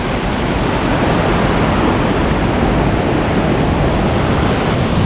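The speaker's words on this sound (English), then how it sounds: "Wow, listen to the power of the water." Water rushes powerfully over pebbles and stepping stones near Antalya, Turkey, a loud, constant, close roar with no voices.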